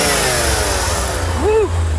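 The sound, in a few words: Corvette engine revving with throttle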